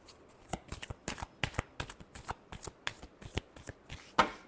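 A deck of tarot cards is shuffled by hand, a close, crisp series of rapid riffling bursts and taps repeating about a dozen times in quick rhythm, with no talk heard.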